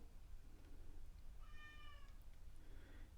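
Cat giving a single soft meow, distant and faint against a low background hum, with a second quieter cry shortly after.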